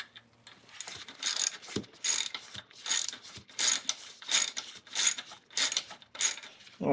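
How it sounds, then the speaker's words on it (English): A ratchet tightens a 6mm bolt on the alternator belt of a 1999 Acura RL, clicking in about eight close, rhythmic bursts of quick pawl clicks with short pauses between strokes. "throw the ratchet on there"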